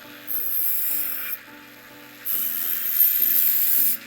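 A podiatry instrument is rubbed against a sharpening stone in two long rasping strokes, each steady and close, with a short quiet gap between them.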